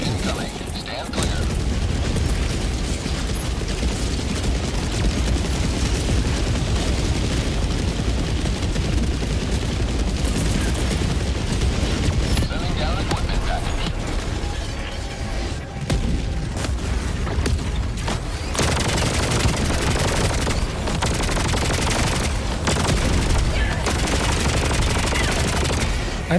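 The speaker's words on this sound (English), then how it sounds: "Orbital barrage incoming." Orbital barrage explosions and heavy gunfire in a video game, a dense continuous roar of blasts and automatic fire throughout, loud and sustained with a brief dip near the middle.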